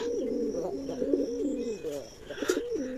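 A pigeon coos close by in a continuous, rolling series of low throaty calls, with someone talking over it.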